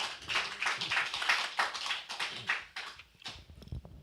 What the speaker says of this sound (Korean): 우리 하나님께, 예배 받으신 하나님께 영광의 박수 올려드립시다.